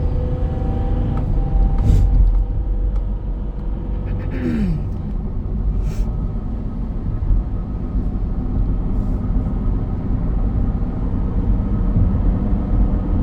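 A 2010 Dodge Grand Caravan driving on the road, heard from inside as a steady low engine and road rumble throughout, with a few faint clicks and brief higher tones over the drone.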